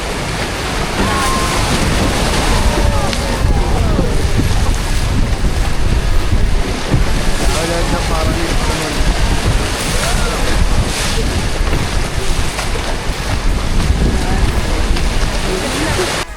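Boat ride on a shallow river winding between mountains at Arashiyama, Kyoto, with loud, steady rushing water and splashing mixed with heavy wind buffeting the microphone throughout.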